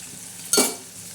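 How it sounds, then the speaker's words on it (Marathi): A tadka tempering hits onions and tomatoes in a pan, a sudden bright burst of sizzling that swells and then fades back into a quiet background hiss. "हवा तडका किती छान असा मस्त बसतोय कांद्याला आणि टमाट्याला"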